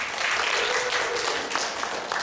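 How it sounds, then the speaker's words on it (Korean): A church congregation claps in welcome for a family back from a trip, a steady, dense wash of applause filling the room for a couple of seconds with no voices over it. "김효진 성도님 가정 우리 박수로 환영하겠습니다."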